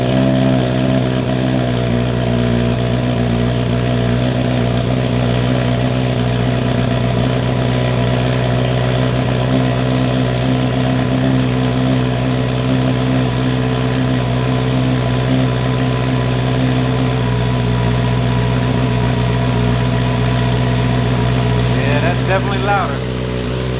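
A 2025 Kawasaki ZX6R fitted with an M4 Street Slayer exhaust starts up, then idles with a loud, steady, deep rumble throughout, close by, with faint blips near the end.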